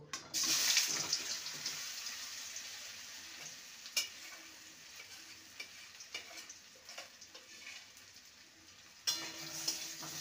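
Taro and potatoes fry in hot mustard oil with a faint, continuous sizzle. Occasional soft clicks and scraping from stirring cut through, and one sharper clatter comes near the end.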